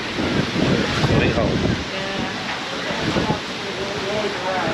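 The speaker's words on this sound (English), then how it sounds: "It's extremely windy" Strong gusting wind buffets the microphone with low rumbling roar, while a voice speaks underneath and surf-like noise swells in the background.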